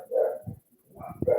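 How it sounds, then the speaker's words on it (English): Dogs barking close by, two short excited barks separated by a brief pause. "Dogs are excited."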